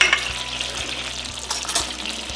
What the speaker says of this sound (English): Saute in garlic.